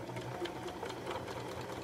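A sewing machine stitches the lining of mittens made from wool sweaters, a close continuous rapid whirring hum with a fast even needle rhythm throughout the short stretch.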